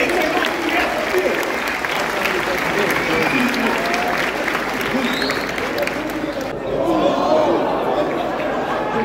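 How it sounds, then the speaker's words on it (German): Crowd applause for Team Eggers at a creator basketball event, loud sustained clapping mixed with cheering and chatter, dropping briefly near the end before swelling again, with voices audible throughout. "Applaus für Team Eggers"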